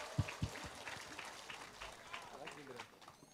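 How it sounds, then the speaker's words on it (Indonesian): An audience at an Islamic religious gathering applauds for Pak Prabowo in a loose, fairly soft patter of clapping, with a few sharp thumps at the start and talk running over it. "Tepuk tangan untuk Pak Prabowo."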